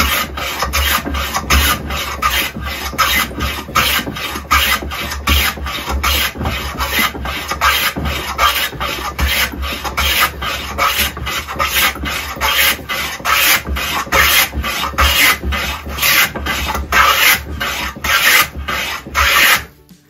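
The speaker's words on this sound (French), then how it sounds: "Et ça, c'est un rabot Goldenberg." A restored Goldenberg hand plane smoothing a wooden board, rapid rhythmic rasping strokes repeated evenly about twice a second, close and loud, stopping abruptly at the end, no voices.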